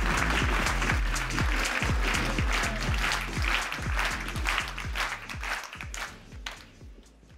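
A conference audience claps in a dense, steady round of applause that carries on for several seconds before thinning out and fading toward the end.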